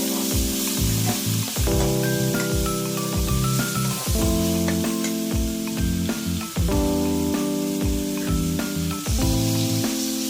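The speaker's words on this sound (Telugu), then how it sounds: "అల్లం వెల్లుల్లి 1 స్పూను, అది కూడా వేగనివ్వండి, బాగా పచ్చి వాసన పోయే వరకు వేపుకోవాలి" Ginger garlic paste fries in a hot pan for a chicken liver curry, giving a loud continuous sizzle close by. Steady hiss is broken by repeated stirring scrapes, with no voices.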